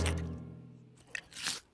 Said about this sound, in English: That sort of scrunching, munching noise.